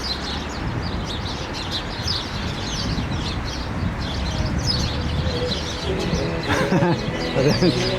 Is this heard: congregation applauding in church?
no